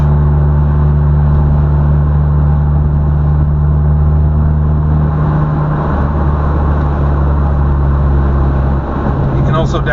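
A manual car's engine hums steadily while the gears are changed with no clutch, a loud close drone that holds one pitch before dropping near the end, with speech over the top.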